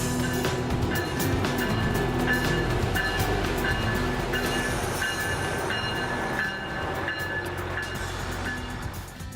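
A passenger train in Ontario's Algoma region, running from White River to Lodge 88, rumbles steadily along the rails with a continuous roar, faint rhythmic clicking and metallic squeals, heard from inside at close range.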